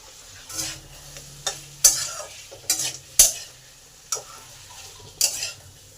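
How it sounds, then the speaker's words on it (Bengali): Vegetables with eggplant fry in a pan with a soft steady sizzle, while a spoon scrapes and stirs in several sharp clattering strokes at an uneven rhythm, close and fairly quiet with no talk. "বেগুনটাকে ভালো করে সমস্ত সবজির মধ্যে মিশিয়ে দিই"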